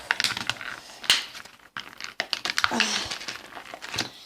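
Dense crinkling and crackling of stiff plastic toy packaging from My Little Pony minis, close and fairly loud, coming in irregular bursts with a brief pause midway.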